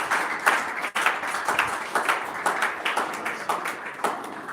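An audience at a live educational event claps, a moderate, uneven patter of hands rising and falling in waves, somewhat distant and without voices.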